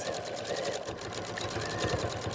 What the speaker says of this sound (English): make sure you don't catch it under the needle, and just close up this end